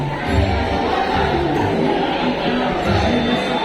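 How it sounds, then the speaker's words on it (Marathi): A large crowd of tourists at a Chhatrapati Shivaji Maharaj temple in Bhiwandi at night, a dense continuous murmur of many voices filling the space, steady and fairly loud. "हे बघा गर्दी पण भरपूर होत चाले पर्यटक पण भरपूर आले त्या ठिकाणी"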